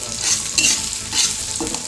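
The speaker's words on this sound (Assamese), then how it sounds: "তেলখিনি গৰম হোৱাৰ পাছত পিঁয়াজখিনি আৰু জলকীয়া দুটা দি দিছোঁ। ভালকৈ লৰাই থাকিব।" Onions and chillies sizzle in hot mustard oil while a spoon stirs and scrapes through them in quick strokes, heard close and alone.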